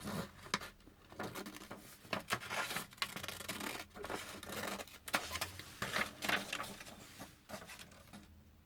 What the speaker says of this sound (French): Donc je découpe mon papier.